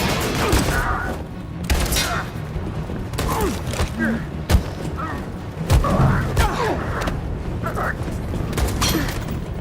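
Bursts of video game gunfire crackle in a busy mix with thumps and mechanical clatter, a few louder shots standing out, while excited voices talk over the action.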